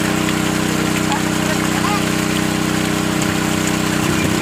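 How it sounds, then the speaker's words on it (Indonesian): A small alkon water pump engine drains sand from a borehole well, idling with a steady, loud mechanical hum and vibration close by, unbroken throughout. "Ini menggunakan alkon untuk pengurasannya."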